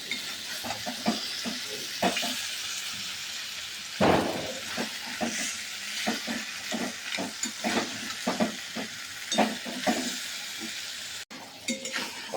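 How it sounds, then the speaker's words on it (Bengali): Crab and potatoes being stirred with spices in a pan, a spoon scraping and clinking against the metal in uneven strokes over a soft, steady sizzle, with one louder knock partway through; no voices. "খুব ভালো করে মশলার সাথে আমার আলু আর কাঁকড়া মেশানো হয়ে গেছে"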